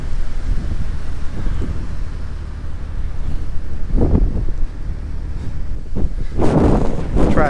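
Strong wind buffeting a microphone outdoors, a constant low roar with heavier gusts and rustling bursts toward the end, loud and close.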